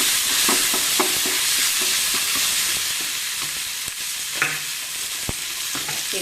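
Garlic and onions fry in hot oil for dill chitranna, a constant bright sizzle broken by repeated scraping stirs of a spatula against the pan, close and fairly loud with no speech.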